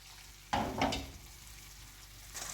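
Fish pieces in masala gravy gently fried and stirred in a pan, a short scrape and sizzle burst near the start over a faint, steady crackle, close and otherwise quiet with no talking.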